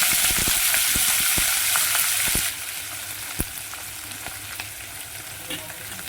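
Chopped spring onion greens hit hot oil with browned garlic, loud sizzling and a few stirring clatters up front, then the frying settles into a quieter, steady crackle.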